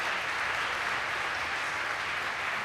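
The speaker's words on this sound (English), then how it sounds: "Please join me in giving a warm round of applause to Srimati Sunanda Vasudeva Tolbandi," A hall audience at an award ceremony in an ashram gives sustained applause, a thick, even wash of many hands clapping that holds steady from start to finish without speech.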